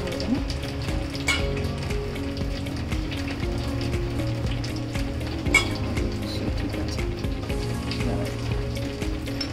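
Fish frying in a pan, a low continuous sizzle mixed with scattered clinks of utensils against cookware, close and moderately quiet, with no voices.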